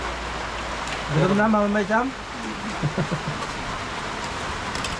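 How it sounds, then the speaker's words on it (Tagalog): Heavy rain pouring down as a constant broadband hiss, with a person speaking briefly over it partway through. "Grabe lakas ng ulan."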